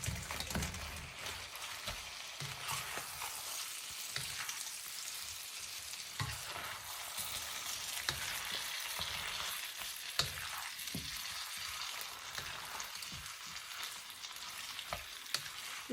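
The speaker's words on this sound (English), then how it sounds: "we are going to add our fried plantains, our dodo now" Fried plantains (dodo) and gizzards sizzle in a pan on very low heat, a dense continuous crackle broken by occasional sharp pops and stirring scrapes.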